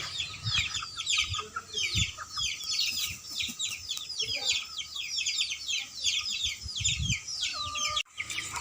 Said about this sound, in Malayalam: ഈ കാണുന്നതാണ് നമ്മുടെ നാടൻ കോഴികൾ